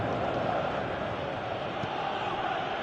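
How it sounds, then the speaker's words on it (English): Stadium crowd from a PS4 football video game, a steady dense roar of many voices at moderate level, continuous without clear peaks throughout. "you can feel and hear how the crowd are reacting to all of this"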